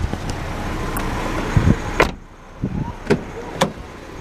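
Power windows and door controls of a white car with tan cloth interior, several short motor whirs and clicks spaced a few beats apart, close and fairly loud over a quiet interior background.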